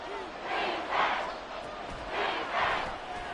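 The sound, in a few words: stadium crowd cheering in football video game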